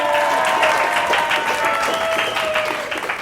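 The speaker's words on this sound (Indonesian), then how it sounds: "Tepuk tangannya mana?" A studio audience at a talk show claps loudly and densely, a full round of applause that stays strong before easing slightly at the end.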